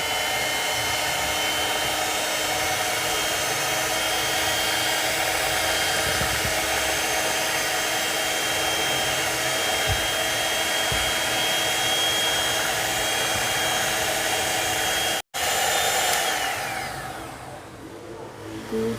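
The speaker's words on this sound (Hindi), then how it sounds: "एग बीटर को मैं दोबारा चलाऊँगी और इसमें मैं दूध को मिक्स करूँगी।" An electric egg beater whirs steadily while beating milk into cake batter, a loud continuous motor drone that cuts out briefly and then winds down near the end.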